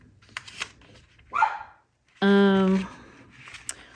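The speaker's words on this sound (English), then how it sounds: "She hears things and she starts barking." An old dog gives a single short bark nearby amid quiet indoor rustling and a few spoken words.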